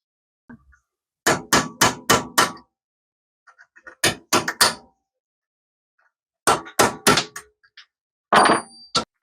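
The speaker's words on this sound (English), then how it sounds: "I'm going to take a punch and I'm going to try and punch that out" A hammer strikes a metal punch to drive a piece out of a part held in a vise, ringing clangs in quick bursts of four or five blows, separated by pauses, loud and close.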